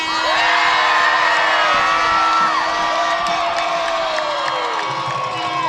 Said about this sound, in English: you hear the roar from the crowd